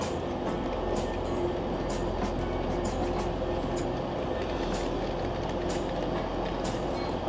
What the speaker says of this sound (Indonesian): Ini suasana di stasiun kereta Liverpool, ya,